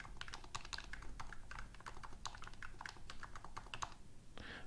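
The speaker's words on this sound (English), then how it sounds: "So this is actually about as good as a keyboard can possibly sound." Rapid, soft thocky keystrokes on a lubed mechanical keyboard, an even typing rhythm with a brief pause near the end, close and fairly quiet.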